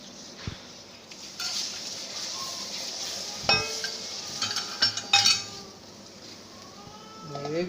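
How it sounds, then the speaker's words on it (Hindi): Water poured into roasting gram flour and sugar for halwa in a pan, with metal spoon scrapes, clinks and soft sizzling as it is stirred, fairly quiet with scattered sharper clatters. "अब इसमें मैं पानी डाल रही हूँ।"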